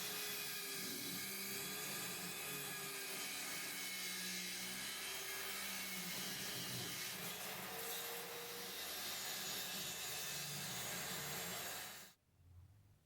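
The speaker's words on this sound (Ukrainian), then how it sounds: "І, власне, зроблю вже перший пропер на циркуляцію." A hand-held circular saw mounted in a table rips square wooden strips, a steady loud whining cut with grinding, sustained for about twelve seconds before stopping abruptly.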